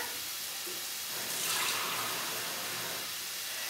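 Water runs from a tap into an emptied coconut milk can in a home kitchen, a steady hiss that swells briefly midway, then settles as the can fills.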